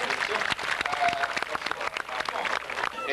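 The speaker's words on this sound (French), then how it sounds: "on peut applaudir, bien sûr." Audience applause at a bird of prey show in the Vosges, France: a dense, steady patter of many hands clapping throughout, fairly close, with no talk over it.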